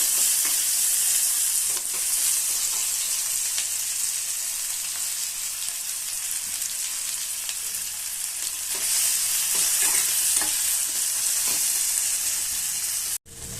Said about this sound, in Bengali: এর মধ্যে হালকা করে পেঁয়াজটা ভেজে নেবো